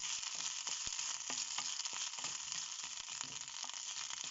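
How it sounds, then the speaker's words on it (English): Moringa drumstick leaves sizzle steadily in a pan over a low flame, a dense continuous frying hiss broken by soft clicks and scrapes as they are stirred, close and fairly quiet. "We need to cook them on low flame and we need to stir them while they are frying"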